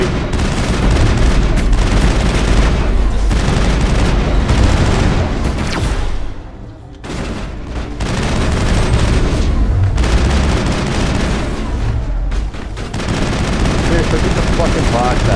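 Sustained automatic gunfire from the Mass Effect video game, loud and dense, with rapid bursts and booming impacts, a brief lull partway through before the shooting resumes, and a voice talking over the barrage.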